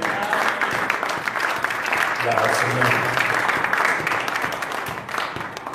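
A church congregation bursts into sustained applause and cheering for the word of God, a dense, even wash of clapping at close range with scattered voices mixed in.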